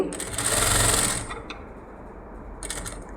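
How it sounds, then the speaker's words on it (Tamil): A sewing machine stitches the neck of a net blouse, a close, loud, steady mechanical whirr of rapid needle strokes that stops after about a second, followed by brief clicks and a short restart. "நெக் பேட்டர்னை எதையுமே இழுத்து பிடிக்காமல் ஸ்டிச் பண்ணிட்டு வாங்க"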